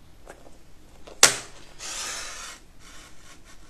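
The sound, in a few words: scissors cutting corners of a card frame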